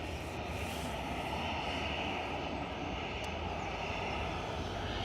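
A Cathay airliner rolls down the long runway at Manchester Airport, its engines a steady, broad roar heard from a distance with no voices over it.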